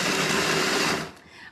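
Cordless electric kitchen appliance, a hand mixer or immersion blender, whirring loudly and steadily for about a second, then switching off and spinning down.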